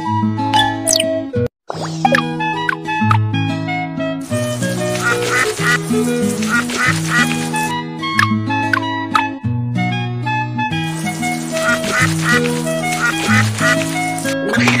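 A cartoon duck quacks over bright, continuous children's music, with repeated short calls blending into the melody throughout, in a children's animation about rescuing a dirty, abandoned duck.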